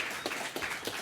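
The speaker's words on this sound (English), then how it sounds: "Round of applause, people." A short burst of crowd applause at an office Christmas party, dense and steady clapping for about a second without voices.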